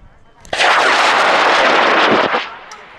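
A K1100 motor ignites on a high-power rocket, an Apogee kit of about three pounds, at the LDRS 43 launch in Helm, California: a sudden loud roaring blast that holds for nearly two seconds before cutting off.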